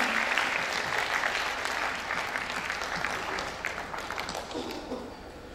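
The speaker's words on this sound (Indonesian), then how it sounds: "So imam kajawati tepuk tangan dong." Audience applauding at a musical memorial concert, a dense, steady wash of clapping from a large crowd that carries through the whole stretch and eases slightly toward the end.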